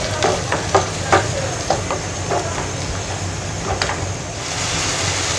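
Two large ground tomatoes fry with onions in a pan for Punjabi rajma masala, giving a steady close sizzle broken by several sharp spoon scrapes and stirs.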